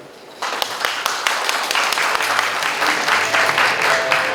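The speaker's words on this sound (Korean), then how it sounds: "다시 한번 뜨거운 박수 부탁드립니다" An audience at a symposium marking an association's 60th anniversary breaks into applause, a dense, steady round of clapping that starts suddenly after a brief quiet and carries on strongly, with a voice faintly present underneath.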